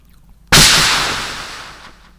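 A voice imitates a double-barrel shotgun blast by mouth: one sharp, loud, close burst after brief quiet, followed by a hissing decay that fades over about a second and a half.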